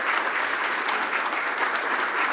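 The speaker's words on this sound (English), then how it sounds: "how about a big round of applause?" Sustained, even applause from a large audience at a public oration event, a dense, continuous wash of clapping without pauses, loud and close.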